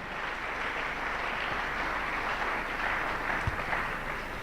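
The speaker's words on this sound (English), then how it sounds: "Please, a round of applause for them." Applause from the audience at an oil and gas company's award ceremony and roundtable, a steady, faint wash of clapping spread across the whole stretch with one brief thump near the end.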